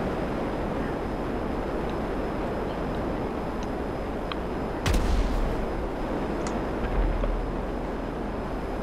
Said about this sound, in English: I felt explosions.